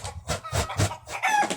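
Chickens cluck and crow close by on a farm, a steady run of rough squawks and calls with a higher crowing rise near the end, loud and without any talk over it.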